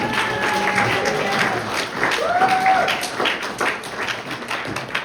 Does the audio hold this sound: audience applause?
yes